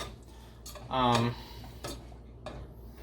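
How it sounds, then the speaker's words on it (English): Butter being stirred into cooked spaghetti, with a short burst of utensil scraping and clinking against the pot, followed by a few fainter, sparse stirring taps. "then you're going to want to stir it to thoroughly mix up the butter"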